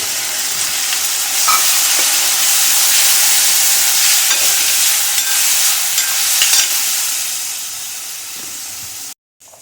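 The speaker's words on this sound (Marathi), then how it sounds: "डाळ जरा परतून घेते आधी" Lentils sautéing in a hot pan give a loud, steady sizzle with occasional stirring scrapes, running continuously before cutting out abruptly near the end, with no voices.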